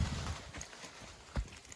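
Soft, scattered hoof thuds from horses walking sound at a distance over a muffled outdoor background, irregular rather than a steady rhythm.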